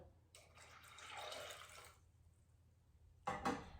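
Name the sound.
water poured into pot of dal makhani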